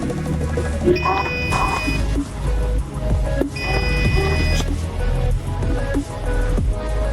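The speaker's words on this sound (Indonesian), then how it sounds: "buzzer di sini juga berbunyi" An electronic buzzer in a rice-field pest and soil-moisture detector sounds twice in short, steady bursts over a background of hum and clatter, with a voice faintly present.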